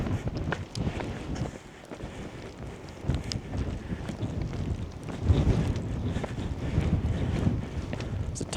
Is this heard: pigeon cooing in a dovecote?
no